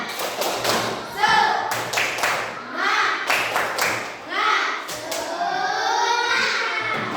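A classroom of children doing a rhythmic chant-and-clap cheer, bursts of patterned claps and thumps mixed with young voices chanting, close and lively.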